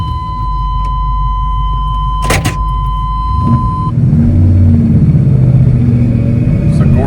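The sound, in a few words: 1986 pickup truck driving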